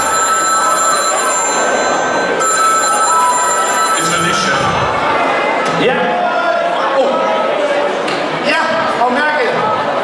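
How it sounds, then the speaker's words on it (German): A black and yellow telephone rings in repeated bright bursts amid a busy, noisy scene, with a voice talking over it. "Schwarz-gelbe Telefon."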